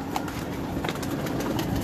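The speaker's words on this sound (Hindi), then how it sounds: "ये जी साधना कबूतर है हमारे" Pigeons cooing on a rooftop, soft low murmuring calls layered over steady background noise, close and continuous through the short stretch.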